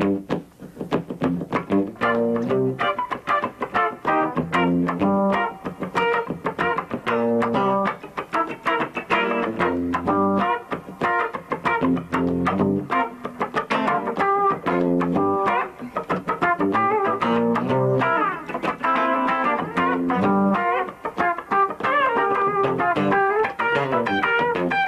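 Two electric guitars play together, one picking bright high notes while the other chugs lower rhythmic parts, steady and loud throughout.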